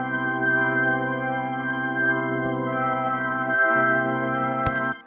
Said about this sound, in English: Now, I wanted to use an organ, so let's have a listen.